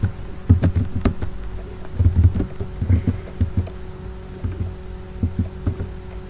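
A computer keyboard is typed on to input data into a C++ program, with irregular clusters of close, dull key taps over a faint steady hum and no voices.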